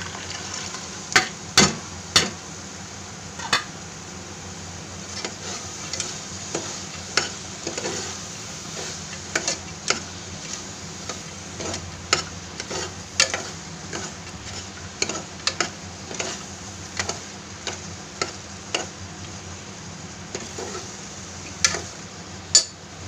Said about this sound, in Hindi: इसको अच्छे से भूनेंगे